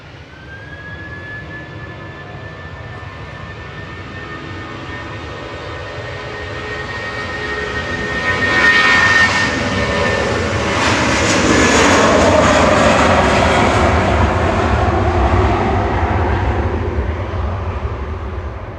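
An SAS Airbus A320 jet takes off at Manchester Airport, its engines building from a steady whine to a loud, broad roar that holds as the aircraft climbs away, heard outdoors with no voices.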